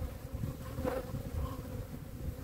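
Honeybees buzzing around an apiary hive during a queen inspection, a dense continuous drone from many insects close by, steady and moderately loud with no voices.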